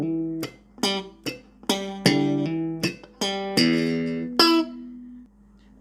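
A slap bass riff transposed to guitar: about ten sharp, punchy plucked notes in a quick syncopated rhythm, close and clear, ending on a ringing note, with no talking.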